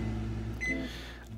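A microwave oven timer goes off with a short electronic beep over the steady hum of the running oven, heard indoors with no voices.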